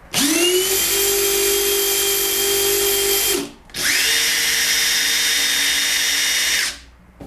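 A Kyocera cordless impact driver whirs loudly at high speed in two long bursts of about three seconds each, separated by a brief pause, close up.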